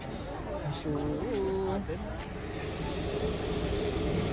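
A train rolls in with a steady hissing rumble and a brief tonal whine, while voices murmur nearby.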